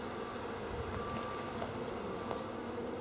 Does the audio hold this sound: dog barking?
no